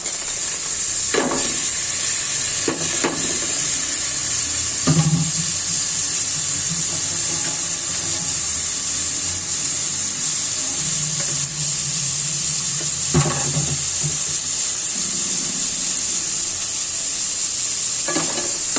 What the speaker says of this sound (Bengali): ডালগুলো ভেজে নিব